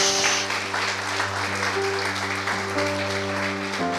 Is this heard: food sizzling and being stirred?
no